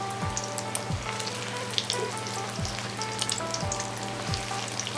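Tofu martabak frying in a pan of hot oil gives a steady, dense sizzle throughout, with a few soft low knocks as the pieces are stirred or shifted. No one speaks.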